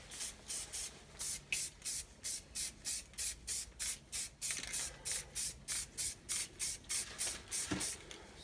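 An aerosol can sprays black paint in thin coats onto a 1992 GMC air cleaner lid, short even hissing bursts repeating steadily in close succession, soft and nearby.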